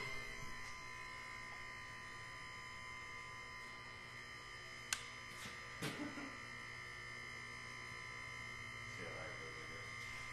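A small hydraulic lift pump drones in a steady electric hum throughout, with a few brief knocks and people talking over it.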